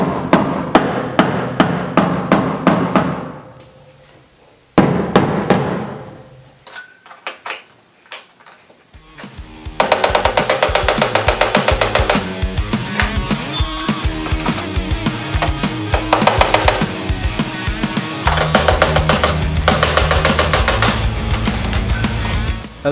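A hammer taps out a body line dent on a 1966 Mustang with a stud lever, a long run of close sharp metallic blows, first spaced, then rapid and steady, with a brief pause in between.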